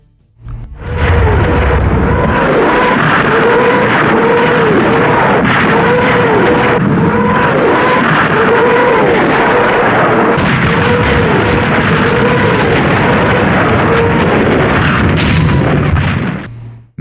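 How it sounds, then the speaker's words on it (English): A Soviet Katyusha rocket launcher from World War II fires a sustained salvo: a loud, continuous roar lasting the whole stretch, laced with wavering whistles as the rockets streak away, with no voices. "The Soviet Katyusha rocket launcher stood out as one of the most feared weapons of World War II."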